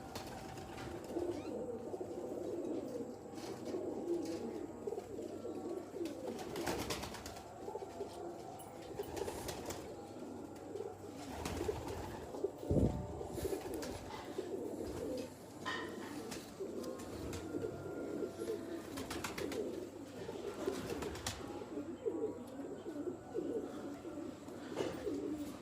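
Teddy pigeons of the Salara breed, kept at home, coo softly in a low, repeated throaty rhythm, faint and steady, with a few scattered chirps and rustles around them.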